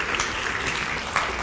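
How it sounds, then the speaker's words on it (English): Warm audience applause for Diana Nammi at an event speaking out against honour killings, a brief spell of many hands clapping at moderate level. "Please give her a warm round of applause."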